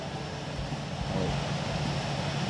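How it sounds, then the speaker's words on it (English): Airplane engines drone as planes arrive in the Airport CEO video game, a steady, close, even engine roar that holds throughout. "planes just coming in. Can you hear the engines?"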